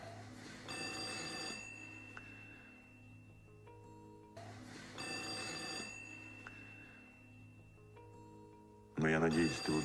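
An old telephone bell rings in two long bursts with a pause between, then a voice begins speaking at the end.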